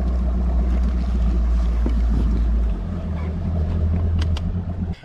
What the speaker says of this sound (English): Let me spin the boat around here a little bit.